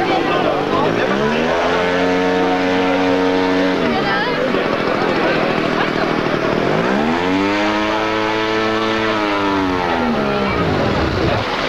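An Arc 3 vehicle drives past at a 1981 GAM meeting in Yverdon, its engine tone rising and falling through two close passes with a clear pitch drop as it goes by.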